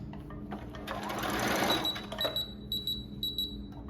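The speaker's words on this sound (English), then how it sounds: "you got to keep sewing to get it to work" A sewing machine runs through old denim jeans being turned into a wrap skirt, giving a short whirring burst of rapid stitching followed by light clicks and taps from the mechanism, fairly close and with no talk.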